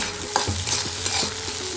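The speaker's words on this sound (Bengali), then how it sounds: "আরেকটা কড়াইতে ডিমটা ভুজিয়া করে নিচ্ছি" Beaten egg with a little salt fries as bhujia in a kadai, a close, steady sizzle broken by quick scraping stirs of a spatula against the pan.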